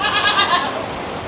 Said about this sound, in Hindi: ये देखो मिल्किंग की कुछ बकरियां इसके अंदर हैं।